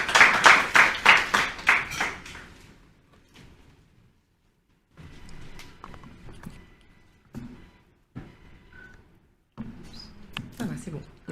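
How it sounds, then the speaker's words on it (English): An audience at a launching ceremony gives a short round of applause that swells and fades within about three seconds, followed by scattered thuds and someone speaking. "I think we can give her a round of applause."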